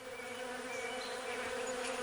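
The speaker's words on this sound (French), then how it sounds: "La musicalité des abeilles qui s'affairent en grand nombre dans son espace résonne au vent." Dense, steady buzzing of many bees, a continuous droning hum with no pauses, fairly close and even in loudness throughout.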